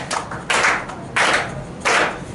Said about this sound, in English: Some claps, please.